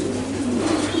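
Racing pigeons coo in a one-loft race loft, a close, continuous throaty murmur of several birds that overlaps without pause.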